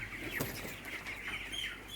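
Broiler chickens in a coop with a bamboo floor give off soft, scattered clucks and chirps close by, with a steady low background hum throughout and no talking.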